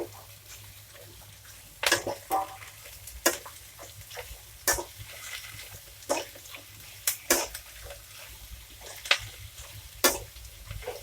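Thinly cut cabbage and other vegetables are stir-fried for street-style veg noodles, with a soft, steady sizzle broken by sharp, repeated spatula scrapes and clatters against the pan.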